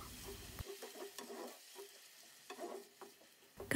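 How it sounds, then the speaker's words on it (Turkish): Water from a glass is poured over boiled cabbage in a pot and quickly stirred, giving soft close scraping and light sizzling bursts at an uneven rhythm, ending in a louder clatter. "Bir su bardağı su ekleyelim ve hızlıca karıştıralım."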